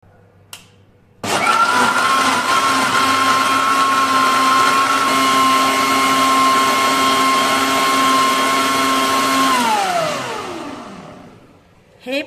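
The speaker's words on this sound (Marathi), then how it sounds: "हे सर्व 3-4 मिनिटं मिक्सरला फिरवून घ्यायचे" A kitchen mixer blends a strawberry milkshake of cold milk and cream, starting abruptly with a loud, steady motor whine for about eight seconds before spinning down and stopping.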